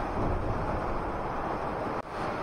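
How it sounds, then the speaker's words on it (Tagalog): Strong early-morning wind blows in a steady, loud rush against the microphone and cuts out sharply for a moment near the end. No voices are heard. "Alas 5, kusog ang hangin."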